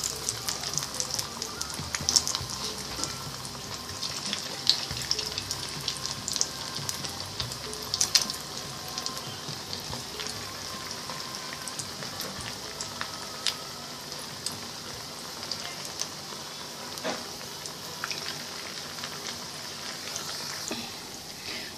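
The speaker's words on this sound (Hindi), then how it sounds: "यहाँ पर पोटैटो चंक्स मीडियम फ्लेम पे डीप फ्राई हो रहे हैं।" Potato chunks, cut into rectangular pieces, deep frying in oil over a medium flame, giving a steady crackling bubble with scattered sharp pops throughout, fairly close and with no voices.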